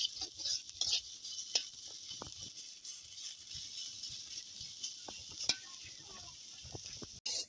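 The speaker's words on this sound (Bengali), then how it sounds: "আমি পেঁয়াজগুলো একটু ভালো করে ভেজে নেব।" Onions frying to a medium brown in a pan for potato puri filling make a soft, even sizzle, with scattered spatula clicks and scrapes and one sharp knock near the end.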